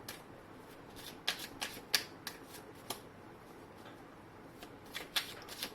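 A deck of tarot cards being shuffled close by, with crisp riffling snaps in uneven bursts over a soft papery rustle. No talking.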